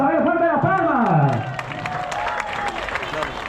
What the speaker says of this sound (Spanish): Fuerte las palmas, a ver, fuerte las palmas.